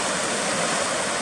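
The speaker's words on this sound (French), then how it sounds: "J'ai arrivé à la rivière. Il y a pas mal de courants" A fast-flowing river with a strong current rushes steadily nearby, a dense, even roar of water with no other sounds over it.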